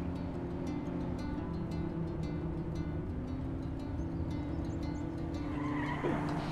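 A BTR armored personnel carrier driving in the military game ArmA 3, a steady loud engine drone with grinding, scraping texture and rhythmic ticking, continuous throughout with no talk.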